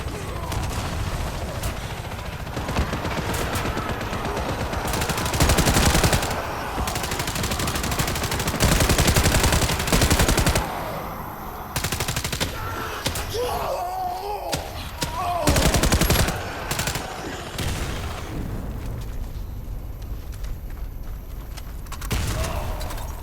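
Gunfire from the video game Warface: repeated bursts of automatic fire with scattered single shots, loud and close, continuing through most of the clip with brief pauses and mechanical clicks between volleys.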